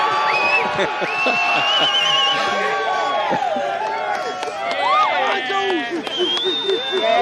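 A big hometown crowd on the Gold Coast cheers and whistles loudly and continuously at the final of a professional surfing event, with shrill rising whistles and shouting over a steady roar.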